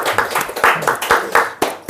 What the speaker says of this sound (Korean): 예, 한번 박수 한번 하시죠.